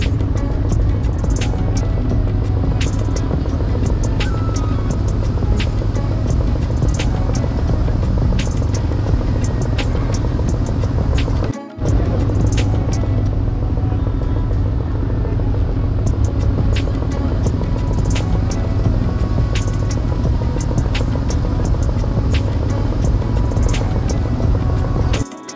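A passenger ship crossing the open sea toward Saint Martin island gives off a loud, steady engine drone that runs unbroken, apart from one brief dip midway.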